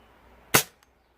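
A Webley Hurricane air pistol fires a single heavy Diablo pellet, a sharp close crack that decays quickly, followed by a faint tick a moment later.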